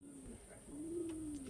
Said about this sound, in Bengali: আমার অনেক পায়রা আছে, কালদমা পায়রা, কালা সবুজ পায়রা